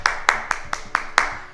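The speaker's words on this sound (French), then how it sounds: "on s'applaudit" A small group of exercisers in a martial-movement workout class applauding themselves, a close, loud burst of rhythmic clapping with about six strong, evenly spaced accents over a blur of lighter claps.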